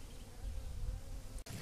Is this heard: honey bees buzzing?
yes